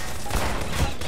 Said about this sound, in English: He's shooting at them.